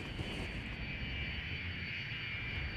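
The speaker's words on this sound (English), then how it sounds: "Alright, so there is the first airplane." Airplane in the Cities: Skylines video game, a steady airliner drone heard close and even throughout, with no talk over it.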